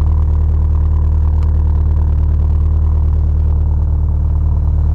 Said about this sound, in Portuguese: o carro tá fazendo barulho top, cara. A hora que você pisa mesmo.